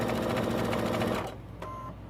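A sewing machine stitches a seam on a pillowcase dress, a loud, steady, rapid mechanical whir that runs for just over a second and then stops, leaving a quieter hum.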